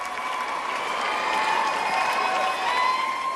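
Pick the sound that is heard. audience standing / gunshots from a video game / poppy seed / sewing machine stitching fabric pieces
audience standing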